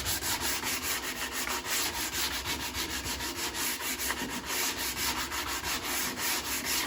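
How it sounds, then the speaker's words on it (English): Sandpaper works the back edge of a wooden jewelry box in steady, rapid back-and-forth strokes, loud and close, with no talking. "I want to sand that up a little bit better."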